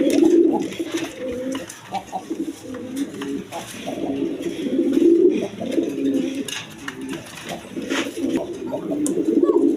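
Pigeons coo steadily at a breeding farm, a dense chorus of overlapping low, throaty calls that rises and falls throughout, with a faint voice occasionally underneath.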